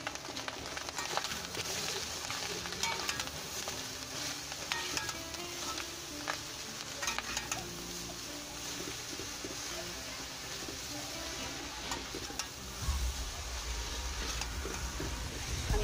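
Boiled cabbage hits a hot frying pan for a cabbage-and-egg dish, giving a soft, continuous sizzle and crackle that stays faint and steady, with a slight bump in fry noise near the end.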